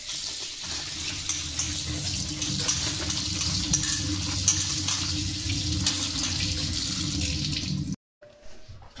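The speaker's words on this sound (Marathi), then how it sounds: "आता ही भेंडी मी स्वच्छ धुवून काढते." Okra is rinsed under a running kitchen tap. Water gushes steadily and loudly into the sink for about eight seconds, then cuts off, leaving only faint trickles.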